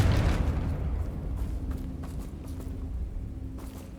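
The Confringo blasting spell in Hogwarts Legacy sets off a heavy explosion, a loud boom at the start that decays into rumbling crackle, with a few smaller pops following.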